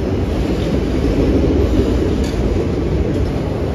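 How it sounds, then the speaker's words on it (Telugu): Kirandul Express passenger train running through a tunnel on the Visakhapatnam–Kirandul line, a loud, dense, continuous rumble and roar of wheels and carriages with faint clatter, steady throughout. "మన ట్రైన్ టనల్లోకి ఎంటర్ అయిపోయింది"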